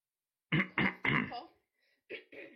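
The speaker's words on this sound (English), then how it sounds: "Cough." Several short close coughs in quick succession, then a pause and two softer coughs, throaty and dry with silence between.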